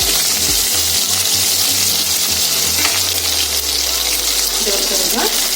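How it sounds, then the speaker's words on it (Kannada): Onion masala for sabzi frying in oil in a pan as water is poured in, with a continuous sizzle and gushing splash that carries through. Low hum and clatter run underneath. "ಒಂದು ಅರ್ಧ ಗ್ಲಾಸ್ ನೀರು ಹಾಕಿ ಇದನ್ನ ಬೇಯಕ್ಕೆ ಇಟ್ಕೊಳ್ಳೋಣ"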